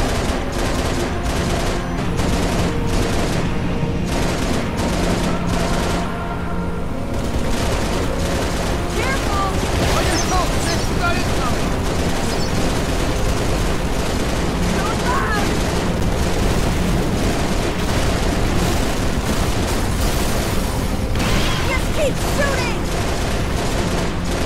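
Sustained gunfire in Halo: Reach, with rapid automatic bursts and heavier booms layered into a loud, continuous firefight, joined by shouted voices and battle chatter throughout.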